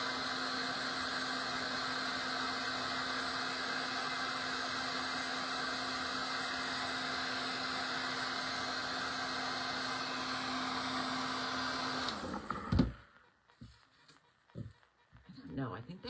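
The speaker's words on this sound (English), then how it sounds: "I think the hairdryer makes my paint sticky." A hair dryer blows with a steady, loud whirring hum for a long stretch, then cuts off abruptly, leaving quiet handling noises.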